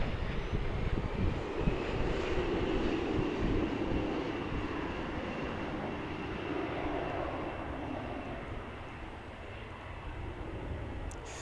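A Boeing 787 Dreamliner at DFW International Airport produces a steady, distant jet-engine roar that holds at a broad, even level for the whole stretch, with no voices over it.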